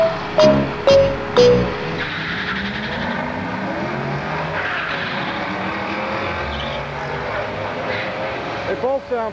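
2007 Ford Mustang GT cars racing, their engines giving a sustained, loud roaring drone that rises and shifts as they pass, with voices heard briefly at the start and end.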